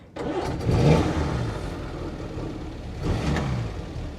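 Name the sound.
Fordson E83W Utilicon engine starting with choke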